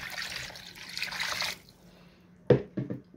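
Water pours into a pot holding washed lamb seasoned with black pepper and salt, a steady splashing stream for over a second, then a few short, distinct splashes.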